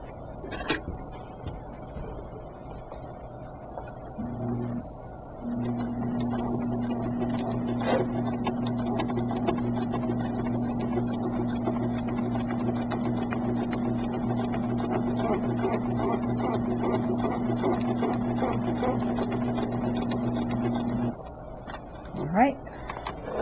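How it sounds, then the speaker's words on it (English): A home sewing machine stitches a fabric seam while foundation paper piecing a quilt block, running as a steady, even hum and rapid needle chatter for about fifteen seconds before stopping, with a person talking briefly around it. "let's sew this seam."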